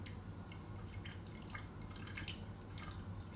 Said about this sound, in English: put it, mix it with some water, and then pour it to the tank